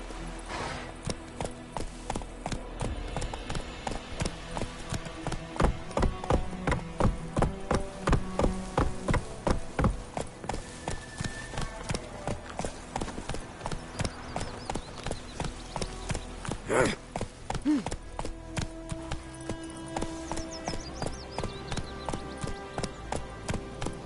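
Roach, the horse in The Witcher 3, trotting with steady rhythmic hoof clip-clops throughout, clear and close, over faint ambient game sound with no one talking.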